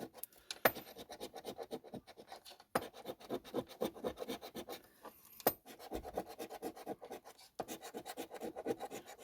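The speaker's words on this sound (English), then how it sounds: "This actually makes for a great scratching tool." A coin works briskly over a lottery scratch-off ticket in close, repeated scraping strokes, steady runs of rasping broken by short pauses, with no voices present.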